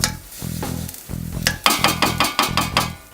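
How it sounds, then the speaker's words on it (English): Butter goes into a frying pan while cooking Swedish chicken, with a low sizzle under a series of rhythmic metallic clinks and scrapes of a utensil against the pan, growing louder and quicker toward the end. "Butter into the frying pan"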